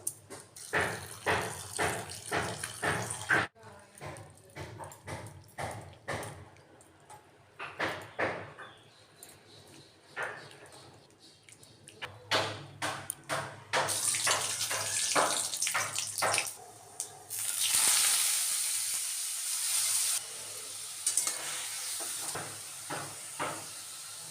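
Chopped vegetable is washed under a running tap, with intermittent splashing bursts of water and handling, then a longer steady stream of flowing water near the end.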